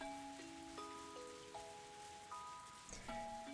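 Light rain drizzles steadily outdoors in a scene from the visual novel Higurashi When They Cry: Rei, a constant soft patter under gentle sustained musical tones.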